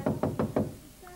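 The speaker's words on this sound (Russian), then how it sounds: "Стучите громче." Four quick knocks on a door, evenly spaced and fairly close, followed by a brief quiet pause.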